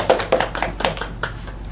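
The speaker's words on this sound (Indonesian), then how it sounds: "beri tepuk tangan untuk Mbak Fadila ya" A small classroom audience gives a presenter a short round of applause: a few sparse, separate claps ring out over a quiet room, fairly close and modest in volume.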